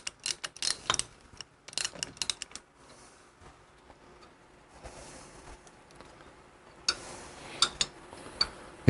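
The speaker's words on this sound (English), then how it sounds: "So using a 12-point socket and a long-handled ratchet, it's no big deal." Long-handled ratchet turning a 12-point socket on the cylinder head bolts of a stock Harley Evo engine, heard as bursts of quick clicking and ticking, mechanical clatter separated by quieter stretches, close and fairly loud with no talk.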